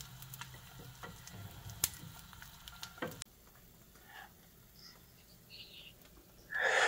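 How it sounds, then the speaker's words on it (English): An egg fries sunny side up in a hot oiled pan, a faint steady sizzle with a few light taps early on and a louder burst of crackling at the very end, no talking. "add 1 egg to a hot oiled pan. Fry to your liking."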